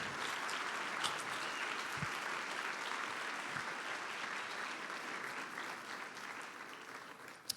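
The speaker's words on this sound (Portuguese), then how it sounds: "bata palmas a eles, celebre eles" An audience at a bilingual church message claps to celebrate a group of boys. Soft, even applause runs continuously from a distance, with a few sharper claps standing out.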